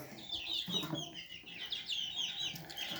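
Chickens and roosters cluck and chatter continuously at moderate distance, several birds calling over one another in a busy coop.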